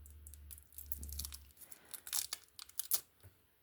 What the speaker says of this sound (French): je vais enlever mon petit morceau de scotch